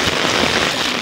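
Heavy rain pours onto a surface and roof drainpipes gush at full flow, making a dense, continuous hiss and patter that stays loud and even throughout with no voices.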